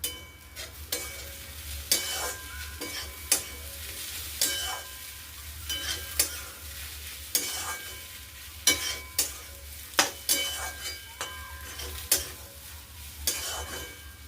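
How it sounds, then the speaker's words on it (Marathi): A spoon stirring fresh pea filling with lemon salt and coriander in a hot pan, repeated scraping strokes at a steady pace over a soft sizzle, close, no talk. "आणि वरतून कोथिंबीर घालून छान मिक्स करून घेऊ."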